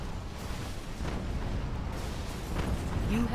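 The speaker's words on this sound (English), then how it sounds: "look at all that nuclear explosion there" A nuclear blast in the real-time strategy game Rise of the Reds, heard as a low, sustained rumbling roar with crackling debris, a few muffled booms and a rising whine near the end, fairly distant and steady, no talk.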